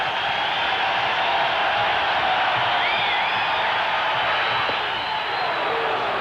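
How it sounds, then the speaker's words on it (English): A packed ballpark crowd yells and cheers for pitcher Roger Clemens during his 1986 20-strikeout game, a loud, unbroken roar that holds steady throughout. "The crowd yelling again for him."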